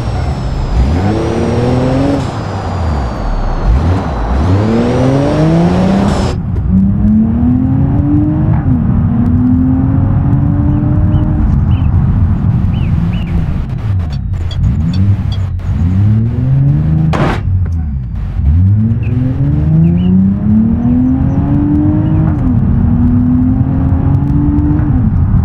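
A Mercedes-Benz SUV in GTA 5 drives with a loud engine that revs up and drops repeatedly through gear changes, with steady road rumble and a few sharp knocks.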